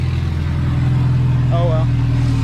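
A DSM car idles right after starting, its engine giving a steady, loud, low drone throughout with no revving.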